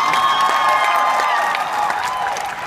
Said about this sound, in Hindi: अगर आपको अच्छा लगे तो प्लीज ताली मार देना